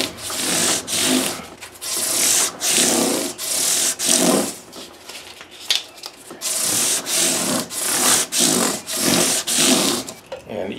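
Guitar frets being sanded with 600 grit sandpaper, a rhythmic series of close, scratchy back-and-forth rubbing strokes with brief pauses between them.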